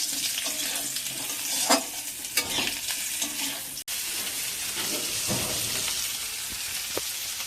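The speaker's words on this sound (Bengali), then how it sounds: "এবার আলুটা ভেজে নিচ্ছি একটু।" Potatoes fry in a pan close by, giving a steady sizzle broken by a few scraping stirs and clinks of a utensil against the pan.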